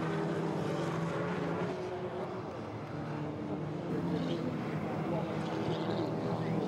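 Production race cars in a Dunlop Sport Max Production Cup race at Pembrey sweeping through the fast right-hand Woodlands kink, a continuous distant engine drone rising and falling over a few seconds.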